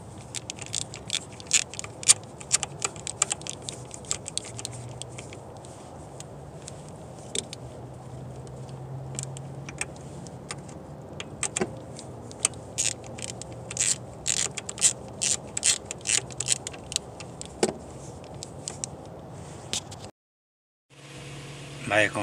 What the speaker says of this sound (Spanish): ahora vamos a apretar este tornillito